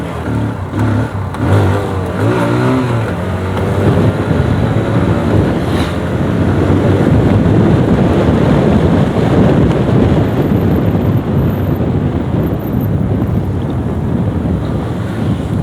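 A TVS Apache 160 2V motorcycle ridden in sports mode, heard as a steady engine drone buried under heavy, continuous wind rush, loud and unbroken throughout with no talking.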